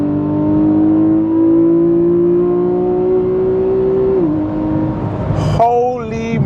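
Porsche 991.1 GTS sports car accelerating hard in Sport Plus mode, engine note rising steadily and loudly for several seconds, then a sharp gear change and renewed climbing revs, heard from inside the cabin.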